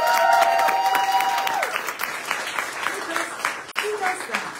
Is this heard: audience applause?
yes